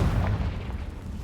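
A Confringo spell bursts in Hogwarts Legacy gameplay as a dull, booming explosion that rolls heavily and fades over about a second, with no voices.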